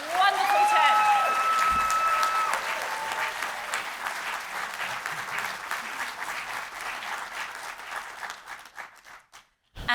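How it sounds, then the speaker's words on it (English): A seated audience at a Three Minute Thesis research event breaks into loud, sustained applause that thins into scattered claps and fades out near the end. "A round of applause for our wonderful 10."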